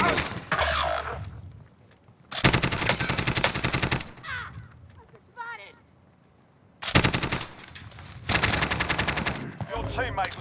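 Loud machine gun fire in the video game Warzone comes in two long sustained bursts, each followed by a shorter burst, with quieter game sounds between.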